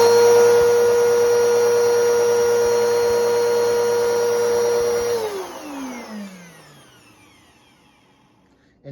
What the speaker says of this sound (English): So this is what the Bissell Powerforce Helix sounds like.